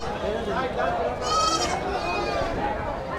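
Goats bleat at a busy rural livestock market in Jamalpur, a clear nearby bleat rising over the crowd's chatter and bargaining voices that continue throughout.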